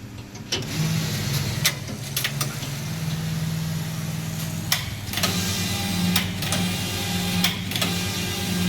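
Collar knitting machine running on four-needle knitting: a steady mechanical hum with a droning tone, punctuated by occasional sharp clicks and clacks of the carriage, close and continuous with no talking.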